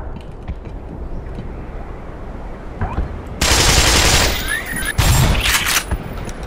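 Gunfire from a weapon in the game Black Mesa, bursts of loud rapid shots over about three seconds with a short gap between volleys, following a quieter stretch of low game ambience.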